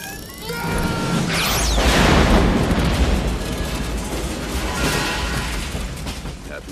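A grenade detonates in an action movie scene: a loud, sustained boom with crashing debris and rumble lasting several seconds, with a brief shout and a whistling swoop near the start.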